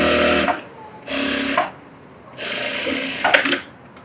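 A sewing machine stitches around a bag lining in three short, loud bursts of rapid whirring separated by brief pauses, heard close and alone.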